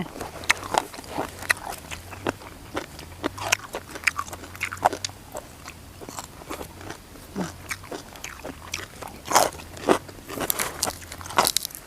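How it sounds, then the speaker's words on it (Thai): Close, crisp crunching and chewing of a Thai seafood salad with pickled shrimp and crunchy squid, in irregular bursts of bites over about twelve seconds, loud against a quiet background with a faint low hum. "กรอบดีเป็นจะไง"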